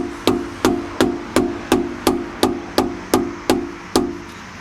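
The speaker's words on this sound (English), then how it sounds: "I could have used a bigger hammer" A hammer strikes metal in eleven evenly spaced taps while making an automotive gasket, each a sharp ringing knock, close by and steady in rhythm.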